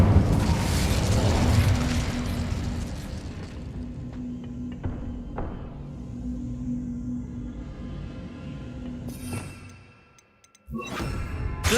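Incendio fire spell cast in the Hogwarts Legacy video game, a loud, dense burst of booming, explosive noise that rolls on and fades, with a brief gap before another sharp blast near the end.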